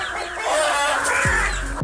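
A hen clucks and squawks sharply while attacking a crow, a brief burst of harsh, agitated fowl calls up close.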